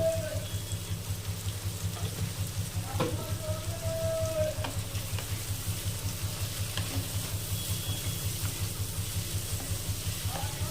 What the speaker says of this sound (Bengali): সবজিগুলো একটু ভালো করে ভাজতে হবে